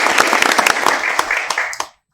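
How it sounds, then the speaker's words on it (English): A short burst of audience clapping at a school board meeting, close and fairly loud with distinct individual claps, fading out after about two seconds. "They all deserve a round of applause as well."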